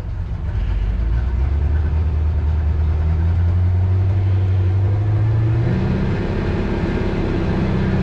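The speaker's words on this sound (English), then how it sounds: "So my plan is gonna be to rev this thing up again." Inboard/outboard boat engine being winterized, revving up from a loud rumbling idle to a higher steady drone, with a clear step up in pitch partway through, close and loud with no speech.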